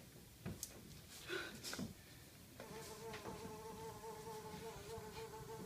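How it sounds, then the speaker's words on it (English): A small fly buzzes steadily and close after a few brief knocks, its whine holding a sustained pitch for several seconds with nothing else around it. "You see that fly?"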